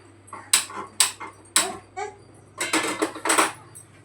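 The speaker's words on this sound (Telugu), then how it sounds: "ఫస్ట్ అయితే పెనం పెట్టేసుకోవాలి. స్టీల్ అయితే బాగానే ఉంటుంది అన్నమాట." Steel pan set down on a stove for making homemade hair oil, several sharp metallic clanks and knocks spaced about half a second apart, followed by a burst of rattling contact.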